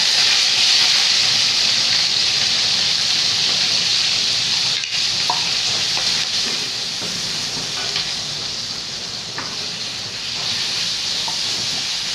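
Jade noodles blanched in a pot of boiling water give a steady, fairly loud hiss of bubbling and steam that runs unbroken throughout, with a few faint clinks near the middle.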